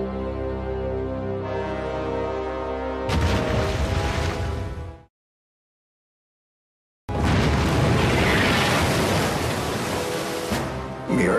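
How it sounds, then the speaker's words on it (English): A ship named Weston blowing up in a wartime minefield lane, heard as a sudden loud roaring blast that cuts to silence, then a second long, dense rumbling burst of noise. "The explosion on the Weston"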